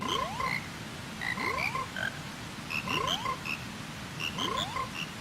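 Repeated frog croaks with rising calls and chirpy trills, a fairly loud chorus pulsing in regular bursts with no talking.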